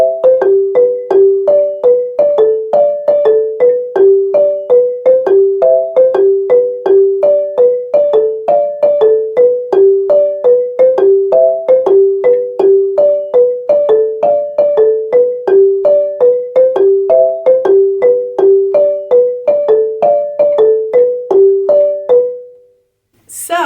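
A marimba plays the first soprano part of Shamwari in the upper octave, a steady repeating pattern of bright, evenly struck notes. It sounds loud and close and is heard alone, then stops abruptly near the end.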